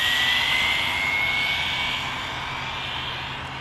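An ARRMA Limitless RC speed car with a Hobbywing Max 6 motor makes a high-speed pass, a loud rising electric whine that fades slightly as it moves away, with no talking.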